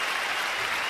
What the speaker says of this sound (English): a round of applause for Payton's Posies